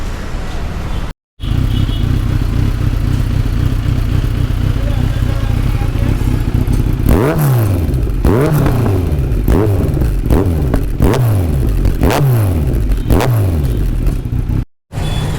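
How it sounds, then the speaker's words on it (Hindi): A Kawasaki Z900 fitted with an Akrapovic exhaust idles with a deep, loud rumble, then is blipped through a series of sharp revs that rise and fall in quick succession, close to the bike. "तो गाइस अपना नेक्स्ट एग्जॉस्ट एक्रापोविक है, जो कि सबसे पहले मैंने यही लगाया था।"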